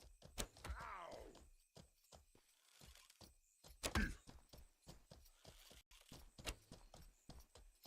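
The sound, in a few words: horse hooves clip-clopping in video game Mortal Online 2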